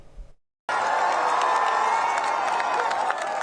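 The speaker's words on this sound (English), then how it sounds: "Hundreds of people cheer as Pope Francis is seen for the first time in public since his 5-week battle with double pneumonia" A large crowd of hundreds cheers and shouts in a loud, steady roar as Pope Francis appears in public, with whoops and scattered clapping rising out of the din after a brief silent break at the start.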